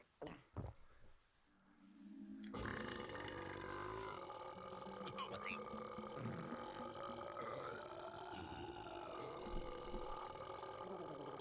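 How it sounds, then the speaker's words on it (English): A long, drawn-out cartoon burp from a character in the claymation adventure game The Neverhood, a loud sustained belch with wavering tone rumbling for about nine seconds, preceded by a few brief sounds. "it makes him burp"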